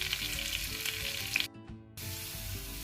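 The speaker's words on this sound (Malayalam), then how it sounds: "ഇനി ഇതിലോട്ട് കുറച്ച് ഗാർലിക് ചേർത്ത് കൊടുക്കാം. ഗാർലിക്കിൻ്റെ പച്ചക്കുത്ത് മാറുന്നവരെ നന്നായി ഇളക്കി കൊടുക്കാം." Garlic sizzles steadily while being stirred in melted butter in a pan, a continuous close frying hiss that briefly dips near the middle before resuming.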